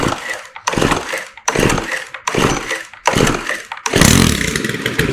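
A Stihl FS131R 4-stroke weed eater fires and dies repeatedly, making five short bursts of engine sound close by with gaps between them. The last attempt runs slightly longer before it cuts out.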